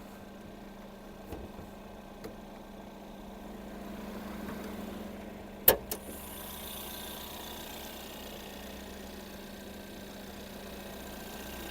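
A 2.0-litre front-wheel-drive Ford Edge Titanium with 59,000 km sits idling, giving a low, steady hum with a faint constant drone, broken by a couple of soft clicks and one sharp knock near the middle.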